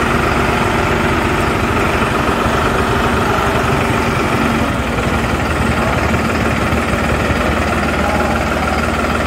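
A New Holland 5620 4WD tractor engine idles steadily at close range, a loud dense diesel rumble with a fast knocking pulse that keeps up without a break.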